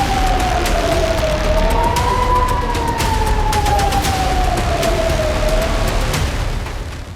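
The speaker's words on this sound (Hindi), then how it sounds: "इजराइल में बजे सायरन," Air raid sirens in Israel wail loudly with a slow rising and falling pitch, blending into a continuous outdoor rumble that fades slightly at the end.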